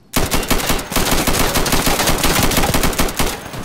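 Sustained automatic weapon fire in the video game Insurgency: loud, rapid machine-gun bursts start abruptly and continue almost unbroken, close and dominant with no talking.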